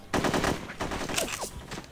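Gunfire in the No One Lives Forever 2 video game, with rapid automatic bursts that rattle loudly for nearly two seconds, broken by short gaps and a few sliding tones.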